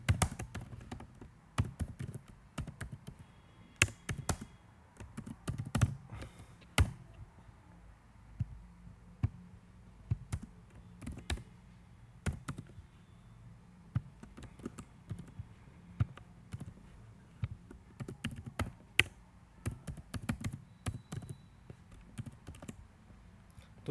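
PHP code is typed on a computer keyboard in irregular bursts of crisp, close key taps with short pauses between runs, heard alone.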